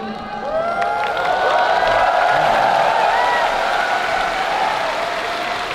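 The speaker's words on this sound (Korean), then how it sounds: "블랙 컴뱃의 공무원 캡틴 코리아 선수께 큰 박수 부탁드리겠습니다." Loud crowd applause swells and holds at a Black Combat MMA event, mixed with cheering and scattered shouts from a large audience.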